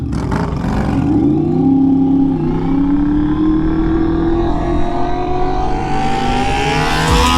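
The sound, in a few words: Honda VFR750F Interceptor motorcycle engine revving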